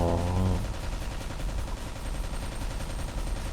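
Rapid, continuous automatic gunfire rattles loudly from the video game Alien Shooter 2: Reloaded, a dense steady barrage after a brief tonal game sound at the start.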